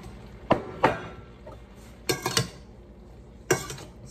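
Food being stirred in a cooking pot with a utensil, two clinks near the start, another pair mid-clip and one more near the end, each clear and close with quiet pauses between.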